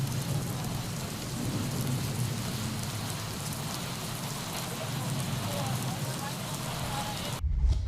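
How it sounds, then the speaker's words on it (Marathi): Heavy monsoon rain pours steadily on a street in Mumbra, a dense continuous hiss throughout, ending with a brief louder thump. "मुंबऱ्यात मुसळधार पाऊस सुरू आहे"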